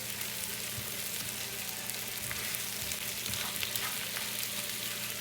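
Kala bhuna meat is stirred in a pot, a steady sizzle with soft scraping and shuffling of the spoon through the thick mixture, close and continuous with no talking.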